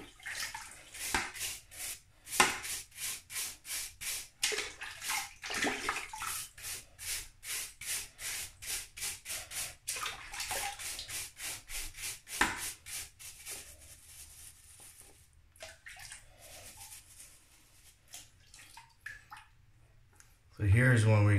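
Mineral rocks being cleaned with Iron Out, some carrying pyrite, are scrubbed with quick rhythmic strokes up close, a long run of even rasping passes that slows near the end before a louder knock.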